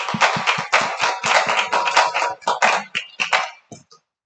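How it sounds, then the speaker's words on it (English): Applause at a tribal council business meeting, dense clapping from a gathered audience, fairly loud and close, building steadily and then thinning out to a few scattered claps before stopping. "A round of applause."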